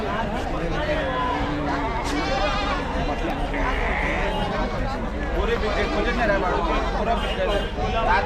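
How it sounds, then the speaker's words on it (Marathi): Tailed Nashik sheep bleat repeatedly at a busy goat and sheep market in Chakan, Maharashtra, their calls rising over constant crowd chatter and voices nearby. "जास्त करून या नाशिकच्याच मेंढ्या आहेत शेपटीवाल्या"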